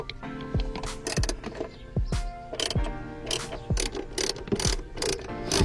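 A ratchet drives a Phillips head screw that holds carpet down, clicking close up in about eight quick, evenly spaced bursts.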